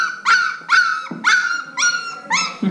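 A two-week-old puppy gives five high, whimpering yips in a steady rhythm, close and loud with no talking over it.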